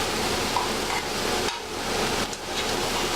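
Kumara rosti sizzles and fries in a pan after being flipped, a steady loud crackling hiss that dips briefly around the middle, close up and without talk.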